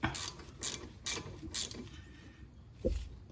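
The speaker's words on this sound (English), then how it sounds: "I'm gonna switch my ratchet." Ratchet wrench clicking during front brake replacement on a 2010 Town and Country, four quick close bursts of ratcheting followed by a single heavier clunk.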